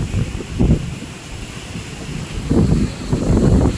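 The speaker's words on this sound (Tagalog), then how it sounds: "Grabe ang lakas ng hangin at ang ulan." Strong wind buffets the microphone in gusts during a heavy rainstorm in the Philippines, with a steady wash of rain-like noise underneath; no speech.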